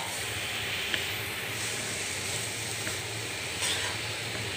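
Grated coconut frying with carrots in a pan for carrot phirni, a steady soft sizzle and hiss with faint stirring scrapes, fairly quiet and unbroken.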